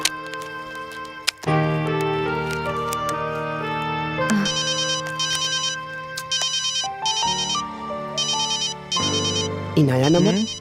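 A mobile phone rings loudly nearby with a repeating melodic electronic ringtone, bright chiming phrases cycling over and over for the whole stretch, with a short interruption early on.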